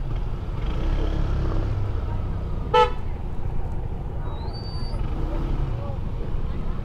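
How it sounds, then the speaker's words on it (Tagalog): Heavy weekend traffic in Baguio City, with a continuous low rumble of engines and one short, sharp car horn toot near the middle, while someone talks over the street noise. "O ayan ang traffic na susuungin nyo dito pag namasyal kayo ng Sabado o kaya Linggo"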